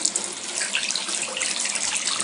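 A bathroom faucet runs in a steady, close, broadband stream of water into a sink, continuous and unbroken with no voices.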